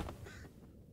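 A crow caws in the Game of Thrones Kingsroad video game, two short harsh calls heard quietly over a low background hum.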